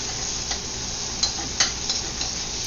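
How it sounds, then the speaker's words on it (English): Beef and garlic sizzle in a hot pan for a beef and green bean stir fry, with soft scraping clicks from stirring scattered over a constant close frying hiss. "You want to stir it around, mix it with the garlic."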